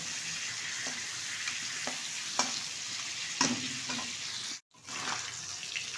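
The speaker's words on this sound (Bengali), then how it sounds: "উল্টে পাল্টে একটু কড়াভাবে ভেজে নেব।" Pieces of katla fish frying in oil, a constant hissing sizzle with scattered pops and brief utensil scrapes, close and steady, with a short dropout near the end.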